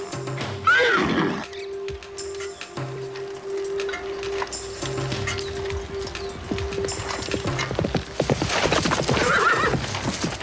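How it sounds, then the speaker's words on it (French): A horse whinnies loudly and close, then its hooves clip-clop in an even walking rhythm, with more neighs and snorts near the end of the clip. "Ce n'est qu'un cheval."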